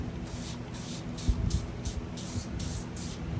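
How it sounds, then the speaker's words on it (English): A spray bottle mists fabric on a board with a string of quick, soft hissing puffs in a loose rhythm, faint and close. "We're gonna peel this back and mist it a little bit."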